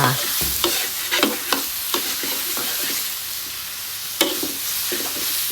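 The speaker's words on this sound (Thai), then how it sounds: "พอพริก หอมได้ที่เราก็จะนำหมูลงไปผัด จนสุก" Pork stir-frying in a pan with chili paste for Thai khua kling gives a steady sizzle, punctuated by sharp scrapes and knocks of a spatula at irregular intervals, with no talk.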